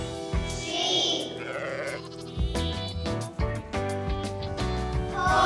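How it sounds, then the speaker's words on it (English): Sheep bleating at a zoo, several loud, wavering, nasal calls in quick succession, some overlapping, set against a busy musical backing with a voice briefly joining in. "Sheep!"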